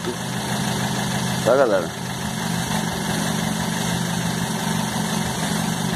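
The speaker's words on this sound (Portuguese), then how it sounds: "Tô injetando água dentro do meu motor. Em poucas doses, tá? Marcha lenta." A car engine with pre-ignition trouble idles steadily while water is injected in small doses, a constant low hum with a short rougher surge partway through, as someone talks over it.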